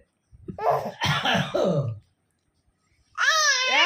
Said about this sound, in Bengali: তো কাশি কেন?